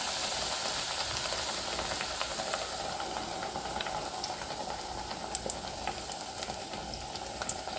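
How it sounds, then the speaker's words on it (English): Sword bean bhajis frying in hot oil, a steady dense sizzle and hiss with small pops throughout, fairly close and alone with no talking. "You can see the bhajis are fried now."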